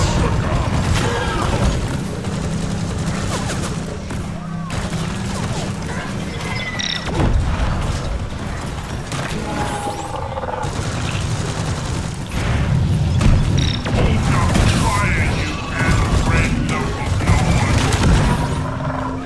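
Grenade explosions in the sci-fi mining shooter Deep Rock Galactic, with loud repeated booms and crashing blasts mixed with gunfire and game noise, dense and continuous throughout.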